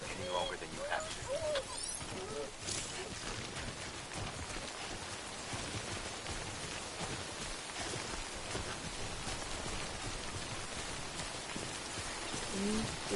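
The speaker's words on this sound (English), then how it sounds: "Don't stay out in the rain any longer than you have to." Timefall rain from Death Stranding falls as a steady, even hiss of rain hitting surfaces, continuous throughout, with faint scattered chirps and a voice quietly underneath.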